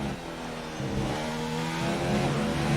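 A racing car engine in a sim racing game at the Austrian Grand Prix on hard compound tyres, revving continuously with rising and shifting pitch, loud and close with no other sounds.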